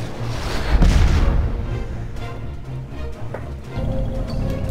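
Missiles fire and enemy ships explode in a space battle in the 2016 strategy game Master of Orion: Conquer the Stars, a loud booming blast up front followed by a rumbling tail and lighter scattered thuds, with no talk.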